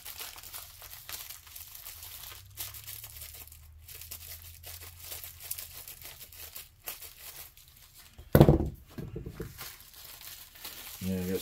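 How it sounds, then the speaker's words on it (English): A mail package gets torn open by hand: quiet crinkling and rustling of packaging runs through, broken by a sharp, loud tearing burst partway in, with some talking in the background. "I'm tired of this tearing stuff apart by hand."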